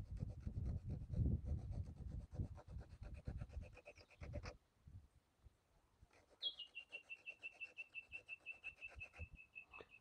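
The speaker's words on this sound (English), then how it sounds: "I use a key cutting file to cut a little groove" A key cutting file rasps a small groove into a wooden tobacco pipe in quick back-and-forth strokes. A brief pause follows, then a fainter run of even, rhythmic scraping strokes.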